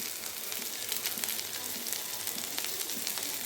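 Ivy gourd curry seasoned with ground cumin and dried red chili powder fries in a pan with a steady, close, crackling sizzle throughout, and nobody speaks.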